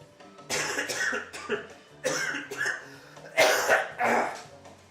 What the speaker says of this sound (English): That's my porno cough.